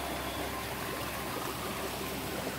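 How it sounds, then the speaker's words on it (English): A creek runs beside a hiking trail below the trees, fed by a pond or lake upstream, its steady rushing, trickling flow broadband and constant throughout with no voices over it. "right next to the trail, along this creek here that's fed from this pond or lake up here"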